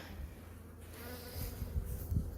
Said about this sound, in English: they're gathering pollen and just doing their bee stuff.